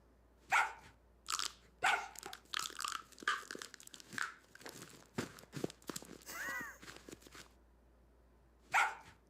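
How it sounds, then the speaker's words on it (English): An AI-generated dog snaps up and crunches popcorn in a rapid series of sharp, close crunches and bites, with a few short bark-like yelps mixed in. "This is the dog catching popcorn."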